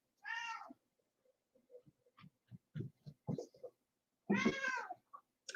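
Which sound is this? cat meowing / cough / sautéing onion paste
cat meowing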